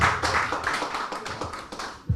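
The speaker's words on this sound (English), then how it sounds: "Elvis, clap one more time." An audience at a web app launch event claps one more time on request, with scattered rhythmic hand claps and taps for about two seconds, moderately loud and without talk.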